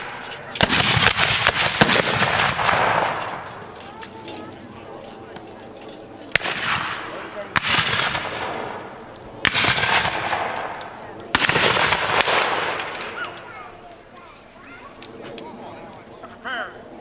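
Civil War reenactment musket volleys crack out one after another, each sharp report trailing into a long echo, loud and spaced several seconds apart, with commands shouted between them.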